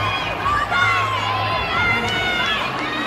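Crowd at a Minnesota Golden Gophers women's gymnastics meet against Nebraska cheering and shouting steadily throughout, a dense arena roar with higher voices standing out.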